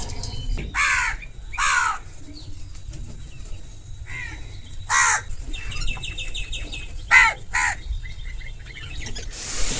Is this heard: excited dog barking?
no